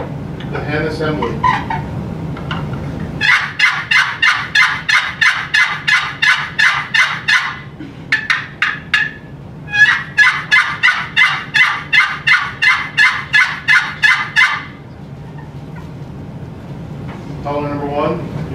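A turkey call imitating a hen assembly at a turkey calling competition works through two long runs of rapid, evenly spaced yelps, loud and close, with a short break between them and brief talk before and after.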